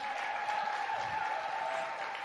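At an honours gala, an audience claps steadily for the nominees on the podium at moderate volume, with a constant tone in the background.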